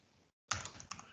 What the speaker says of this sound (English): he can type an environment name